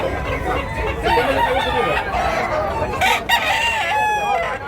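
A rooster for sale at a Cebu poultry market crows loudly and close in one long drawn-out call, with clucking fowl and busy background noise around it.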